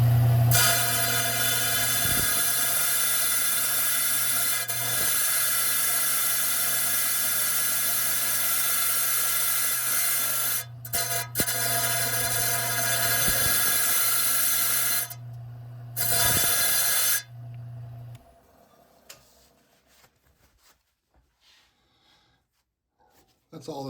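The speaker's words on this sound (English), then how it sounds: "We're now going to trim it up on the saw before we take it over to the lapidary wheels." Covington lapidary saw trimming a piece of jasper, a loud steady whining hum with grinding texture that runs for about seventeen seconds, dips briefly a few times, then cuts off into quiet.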